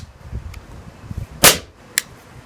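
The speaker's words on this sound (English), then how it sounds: "So here's dry firing, right? Got a lot of recoil." A VFC Walther PPQ airsoft pistol dry firing, giving two sharp, close mechanical snaps about half a second apart, the first louder, against a quiet background with soft handling noises.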